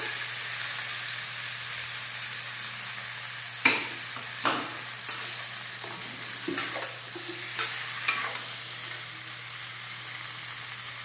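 Cauliflower and potato frying in a pan as a ground coriander, cumin and ginger paste goes in, a steady sizzle broken by a few sharp stirring scrapes and spatters.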